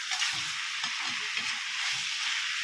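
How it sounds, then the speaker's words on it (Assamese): Chicken and vegetables fry in oil with turmeric, salt and green chili, giving a steady, close sizzling hiss that never lets up, with soft stirring clatters underneath. "এতিয়া এনেকৈ ভাজিম"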